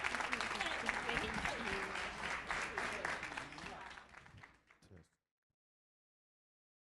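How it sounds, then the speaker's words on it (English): Warm applause from an audience at a Day of Empathy event, dense clapping mixed with crowd murmur that holds steady and then tapers off, stopping abruptly after about five seconds and leaving silence. "warm round of applause."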